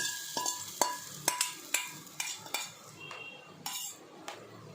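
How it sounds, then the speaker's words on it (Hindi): Metal utensils clink repeatedly against a pot as a tempering (tadka) is added to kadhi, about ten sharp, close taps in an uneven rhythm over a quiet kitchen background. "तो बस अब मैं लास्ट फाइनल कढ़ी का तड़का डाल देती हूँ कढ़ी में"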